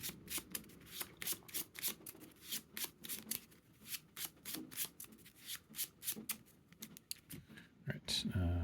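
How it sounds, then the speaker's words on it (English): A deck of playing cards for a card game is shuffled close by in quick, crisp riffles and flicks, a steady run of sharp bursts over about eight seconds. "We're gonna shuffle Arachnobatics in, I think, with the response on Miles Morales"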